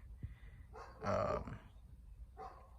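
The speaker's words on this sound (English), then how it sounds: "I hope you can still hear me with that dog in the background" A dog barks in the background near a truck being worked on, a few faint, muffled barks, one louder burst in the middle, with quiet gaps between.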